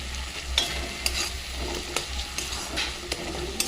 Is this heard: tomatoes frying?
yes